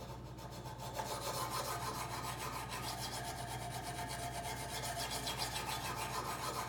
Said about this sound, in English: So let's go ahead and start sharpening.